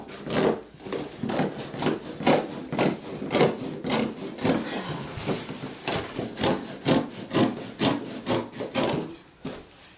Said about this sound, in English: I'm going to cut right on the seam.